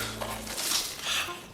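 A radio drama sound effect of Arthur Dent emerging from a tunnel: a brief, dense burst of rushing noise with clattering, metallic crunches that swells twice in under two seconds.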